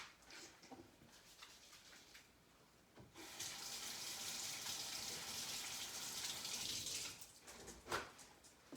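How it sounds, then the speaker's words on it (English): A kitchen tap runs as hands are washed before cooking, quiet splashing at first, then a steady, fuller stream of water for several seconds before it stops with a few last drips. "I'm going to take my jewelry off for sanitation purposes and wash my hands."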